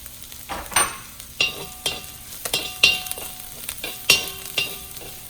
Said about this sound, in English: Garlic for 20 seconds. Fresh garlic. This is about 2 cloves. Get that nice and aromatic.